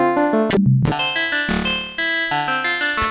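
Arturia MicroFreak synthesizer on its wavetable oscillator plays a stepped sequence, with bright harmonic notes changing in timbre from step to step, loud and close with a brief gap near the start.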